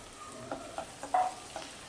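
Okra frying in a pan with gram flour and spices is stirred, making a soft sizzle with a few scraping strokes of the spoon, quiet and close.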